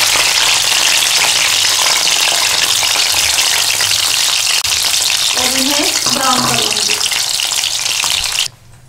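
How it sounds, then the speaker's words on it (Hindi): Sliced onions fry loudly in hot oil in a pan, a dense, steady sizzle that holds throughout before dropping off sharply at the very end. "इतने ज़्यादा प्याज मैंने इस शक्ल में काट लिए थे वो मैं ऑयल में डाल दूँगी।"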